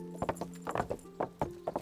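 Horse hooves clip-clopping in the medieval video game Kingdom Come: Deliverance, a steady sequence of sharp, moderately close hoof strikes in a walking rhythm, with a faint snort-like tone and no talk.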